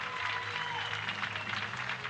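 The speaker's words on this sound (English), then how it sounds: "And the crowd's on their feet around me here." Crowd applauding and cheering in a boxing arena at the Strandja international tournament finals as a Bulgarian fighter wins, a dense, steady roar of clapping filling the hall throughout.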